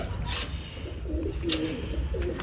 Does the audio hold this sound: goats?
no